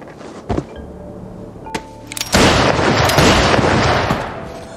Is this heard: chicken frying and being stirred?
no